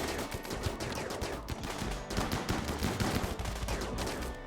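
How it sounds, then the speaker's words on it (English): Dense, continuous enemy gunfire in the video game RimWorld, a rapid crackle of shots and bursts at steady loudness with no pause throughout. "Okay, they're already firing at us."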